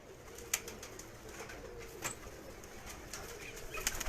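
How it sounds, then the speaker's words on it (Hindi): Pigeons in an Ustad's loft, shown as a dark-coloured breed, give soft low cooing and scattered quick wing flaps and rustles at close range. There is no talk. "ये जो कबूतर है और उस वक़्त का उस्ताद सफदर इकबाल साहब ने इसको संभाल के रखा हुआ है"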